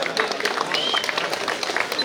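An audience at a village farmers' event claps for an award recipient, scattered, moderately loud applause, lively and uneven, with voices mixed in.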